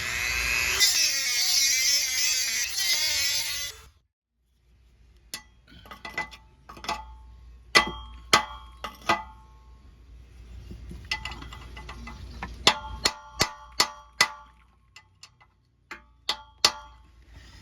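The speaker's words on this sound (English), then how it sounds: "So we're going to try it with a Dremel. We're going to try and cut this." A Dremel rotary tool cuts at a part on a 2011 Ford Explorer during an EVAP leak repair: a loud, steady high whine for about four seconds, then silence, followed by a quiet hum broken by scattered sharp clicks and taps.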